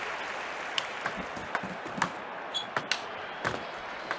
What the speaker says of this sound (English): The crowd are on their feet with that point 1.